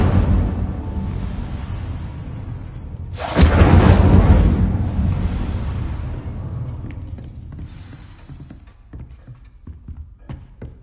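Incendio fire spell cast in Hogwarts Legacy: a sudden loud fiery whoosh and burst about three seconds in, rumbling and fading slowly over a low ambient bed, with small clicks and footsteps afterward.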